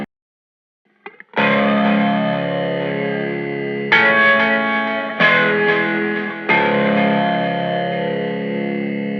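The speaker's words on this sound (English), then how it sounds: "I'll go for the ping pong delay. And we want around 400-500 milliseconds." Distorted electric guitar with a ping pong delay set around 400-500 milliseconds plays loud sustained chords that restart several times, each ringing out with bouncing echoes.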